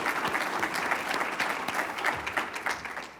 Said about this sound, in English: So y'all help me give a round of applause for Jeannie,